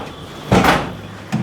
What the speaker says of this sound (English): make sure the door shuts all the way before we walk away